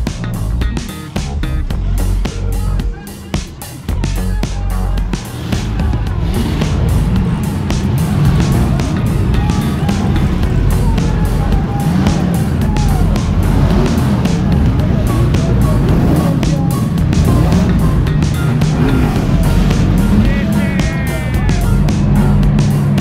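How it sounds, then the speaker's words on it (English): Boat engines start up and run at a raft-off gathering of center-console boats, a loud, continuous engine rumble with brief dips early on, then a sustained throbbing drone to the end. "my favorite part is when everybody start your engines"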